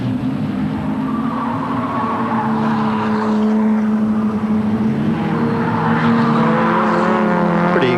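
Production cars race at Amaroo Park during a 1988 Australian Production Car Series round, with loud, sustained engine roar and droning tones that rise and fall as the cars pass nearby.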